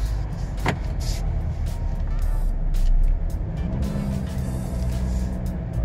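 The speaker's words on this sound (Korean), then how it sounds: "지금 시동을 킨 상태에서 주행하고 있는 상태에서 언덕을 올라가는 겁니다." A 2018 Hyundai Santa Fe TM drives up a hill with the engine already running, giving a steady low engine and road drone with scattered clicks and rattles. One brief rise in loudness comes midway.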